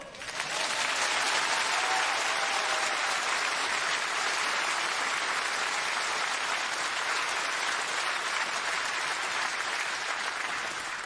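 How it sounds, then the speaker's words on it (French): A theatre audience at a comedy show applauds loudly and continuously, a dense, even wash of clapping that holds for the whole stretch without fading. "quand j'arrive sur scène, les gens m'applaudissent très fort"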